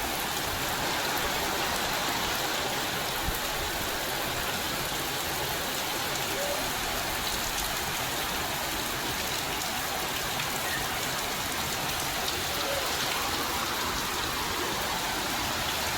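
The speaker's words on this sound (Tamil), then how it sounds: "இது கரெக்டாக இப்போ தான் மழை ஸ்டார்ட் ஆகிருக்கு" Steady rain falls on surfaces outdoors, a dense, even hiss of countless drops that holds at the same loudness throughout, with no talk.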